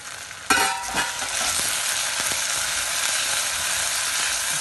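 Tomatoes sautéing in a pan for a chicken and brinjal perittal curry, a steady close sizzle and crackle that jumps louder after a brief clink and holds evenly throughout, with no voices.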